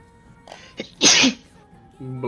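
One loud, close human sneeze bursts out after a short inhaling build-up, followed by quiet background game sounds.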